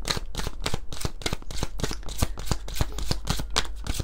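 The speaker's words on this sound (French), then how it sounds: "on va prendre quelques cartes de l'oracle Atlantis." Oracle cards from an Atlantis deck being shuffled by hand, a steady stream of quick, crisp riffling flutters and soft slaps repeating close up, with no talking.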